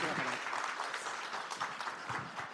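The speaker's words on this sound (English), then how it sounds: "So let's give him a great round of applause again." Applause from an audience at a Japanese film and anime panel session, a dense, even wash of clapping across the room, moderately distant and sustained without breaks, with faint voices in the background.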